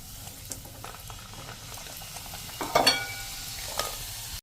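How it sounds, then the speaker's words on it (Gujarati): Rava potato puris deep-frying in hot oil over a medium flame, a steady soft bubbling sizzle with a couple of brief louder splashes near the end, no voices. "આ રીતે તમે મીડિયમ ફ્લેમ ઉપર બધી પૂરી તળી લેશું"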